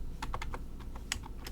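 A short, quick burst of typing on a computer keyboard, a run of crisp, close keystroke clicks in an uneven rhythm, with no talking.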